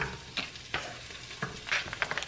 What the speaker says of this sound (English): Let these saute for a little bit.